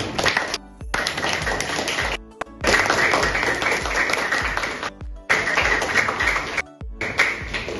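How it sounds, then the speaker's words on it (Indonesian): Classmates clap for a student named Tiara in a classroom, a dense patter of hands broken by several abrupt cuts, with faint tapping and no talk over it. "Beri tepuk tangan untuk"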